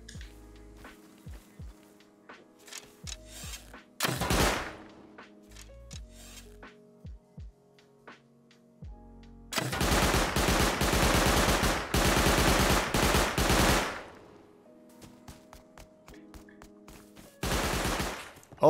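Auto turret gunfire in Rust Console Edition, loud sustained bursts of rapid fire separated by quieter gaps with scattered single shots and clicks, one short burst, a long volley, then another burst at the end.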